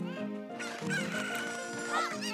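Cuckoo chickens clucking in Zelda: Ocarina of Time, several short squawking clucks in quick succession with game music underneath, close and clear with no talk.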